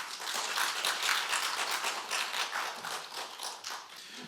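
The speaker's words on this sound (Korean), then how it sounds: "잠깐 일어나시고 박수로 환영하겠습니다" A church congregation claps together in dense, steady applause to welcome a visiting missionary's wife during a Sunday service, loud and sustained for the whole stretch with no talking over it.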